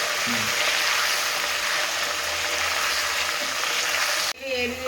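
Ginger, garlic and green chilies fry in hot oil, giving a steady, loud hiss of sizzling that runs unbroken for over four seconds, then cuts off abruptly.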